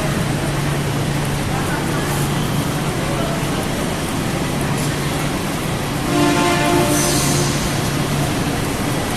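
A train at Manggarai railway station rumbles steadily with the hum of a busy platform and crowd, and a tonal horn or whine rises near the end, all loud and continuous.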